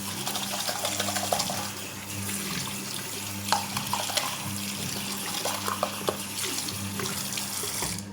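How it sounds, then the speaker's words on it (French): Tap water runs steadily into a sink while small detergent cups are rinsed under the stream, with light knocks and splashes of the cups against the basin and the flow close and continuous. "On rince les petits godets comme il faut."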